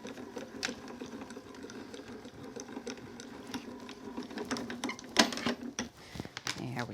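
A die-cutting machine runs steadily as card is fed through for a papercraft project, giving a continuous mechanical whirr with light rattling and a sharper clunk near the end, with quiet talking throughout.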